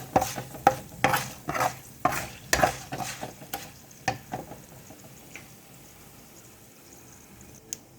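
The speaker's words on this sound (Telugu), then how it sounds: "పోపు చక్కగా ఫ్రై అవుతుంది" Mustard tempering with curry leaves and a pinch of turmeric crackles in hot oil for an okra fry, with sharp spattering bursts for about four seconds that thin out to a faint, quiet sizzle.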